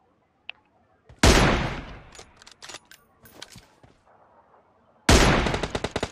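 Gunfire in the video game PUBG, sharp and close: one loud shot followed by a series of scattered quieter shots, then a fast automatic burst of rapid, evenly spaced reports near the end.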